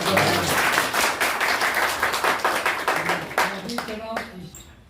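An audience claps at a calendar launch ceremony held by a Junnar taluka friends' association, a dense run of applause that fades toward the end, with a voice talking over it.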